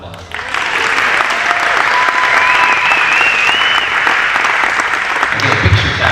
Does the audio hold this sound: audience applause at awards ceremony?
yes